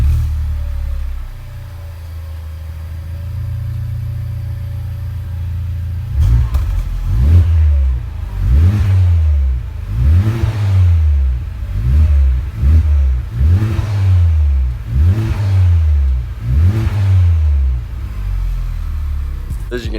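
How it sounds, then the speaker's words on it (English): Stock exhaust of a Honda Civic Type R FK8 revved to about 3,500 rpm: a steady low idle, then around nine loud, evenly spaced revs, each a rising and falling throaty swell, close by. "we're just going to get a clip of the stock exhaust, see what it sounds like"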